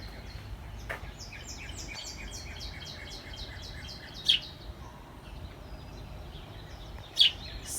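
Outdoors, small birds chirp in repeated bright trills and tweets, with two sharper nearby calls standing out against a quiet background.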